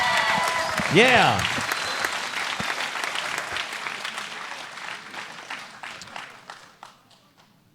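Crowd at an MMA fight event applauding and cheering after the bout, steady clapping and shouts filling the venue, with an announcer's voice briefly heard at the start before the applause slowly fades.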